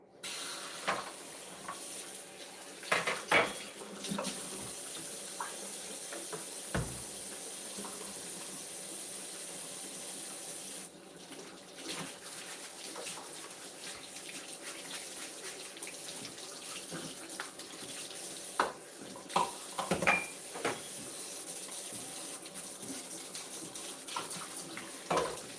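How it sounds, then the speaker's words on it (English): Tap water runs steadily into a sink while a pan scraper is rinsed clean, a continuous close hiss with a few clunks and splashes as the tool is handled, no voices. "Then I want to clean off this that I used to scrape that pan that I cleaned."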